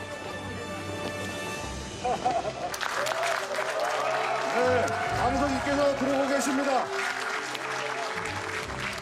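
A crowd applauds as a South Korean president-elect arrives at an event. Sustained, dense clapping swells in after a short pause and carries on steadily beneath an announcer's voice.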